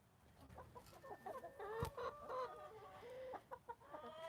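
Chickens cluck in a coop, with a mix of short close clucks, soft murmuring calls and a brief sharp squawk, scattered irregularly over a quiet background.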